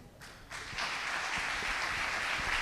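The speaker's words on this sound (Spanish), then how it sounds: "Un fuerte aplauso a nuestros queridos hermanos." A church audience breaks into applause, building within the first second from sparse claps to a full, sustained round that carries on to the end at moderate distance.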